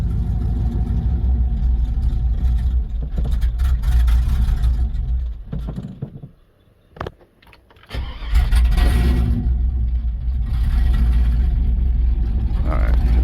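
A 1997 two-door Tahoe with an LS swap rumbles loudly up close, cuts out and goes quiet for a moment, then cranks and restarts before settling into a steady idle.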